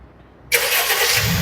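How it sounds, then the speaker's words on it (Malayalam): A Honda Amaze VX starts by remote start: after a short quiet moment the engine abruptly cranks and catches, then settles into a steady, loud idle close by, with no voices. "ഈ ഒരു സ്വിച്ച് നമ്മൾ ഹോൾഡ് ചെയ്ത് വെക്കുക ഇപ്പോൾ വാഹനം സ്റ്റാർട്ടാവുന്നതാണ്"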